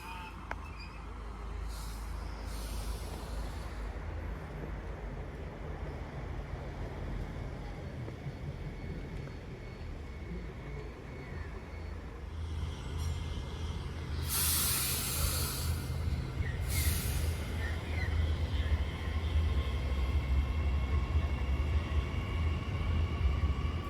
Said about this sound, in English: We now have a Marang Young D set arriving into platform 1 for a central service.